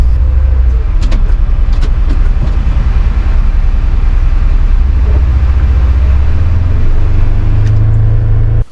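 A 2022 Polaris Ranger Northstar Ultimate UTV fitted with sound deadening drives along with a steady, loud low engine drone and rumbling road noise, heard from inside the cab and holding level throughout, with a few faint knocks.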